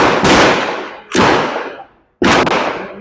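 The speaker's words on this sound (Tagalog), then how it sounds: "Guys, test naman natin itong Canik SFS steel version." Three loud, close gunshots from a Canik SFX Rival S steel-frame pistol, sharp booming reports with short echoing tails, the last two coming in quicker succession.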